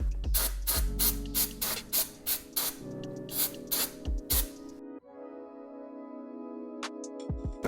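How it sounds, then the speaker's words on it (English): Repeated short bursts of aerosol brake cleaner sprayed onto the four brake caliper pistons of a 4Runner during a front brake pad and rotor job, close and loud, in a quick uneven rhythm with clinks of handling in between. "Then just grab a rag, spray some brake clean on there."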